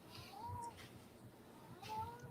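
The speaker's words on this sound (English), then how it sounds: "Is that your cat?" A cat meows twice somewhere in a quiet room, two short rising-and-falling cries about a second apart, faint and a little distant, with no talking over them.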